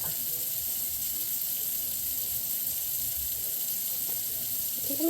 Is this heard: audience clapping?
no